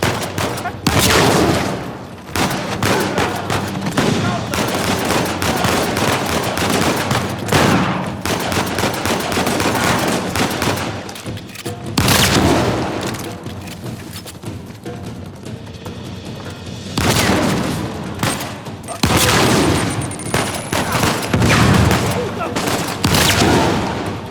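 Heavy gunfire in the video game Uncharted 4, with dense rapid bursts of automatic and single shots rattling almost continuously, broken by a few short lulls, loud and close.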